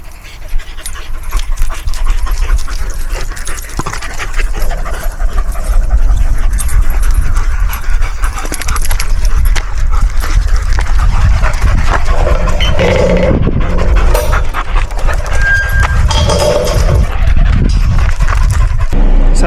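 Dogs pant hard on a warm day, giving continuous rapid close-up breathing with scuffling movement and rustling throughout a long loud stretch.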